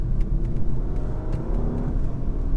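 A 2018 Volkswagen Passat being driven gives a steady, close engine drone with low road rumble from inside the cabin, continuous and unbroken, with no one talking.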